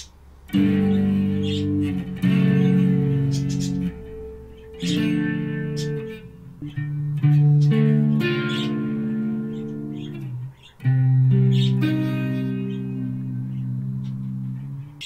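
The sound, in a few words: guitar with flanger effect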